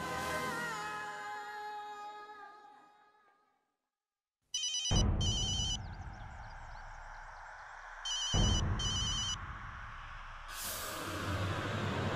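A telephone rings during a scene of a Turkish-dubbed Indian drama series, with two loud bursts of ringing over a low rumbling background after an earlier stretch of music and a brief silence.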